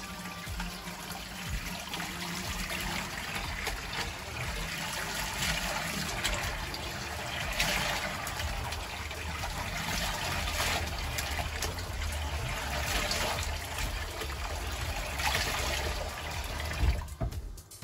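Water runs steadily into a sink while a human hair full lace wig is rinsed, a constant close splashing rush that holds level and unbroken throughout with no voices.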